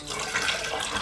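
Water poured from a bottle into a mason jar, a steady continuous splashing and trickling stream that runs loud and close for the whole second with no voices.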